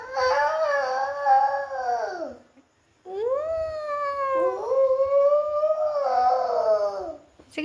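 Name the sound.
child imitating an elephant trumpeting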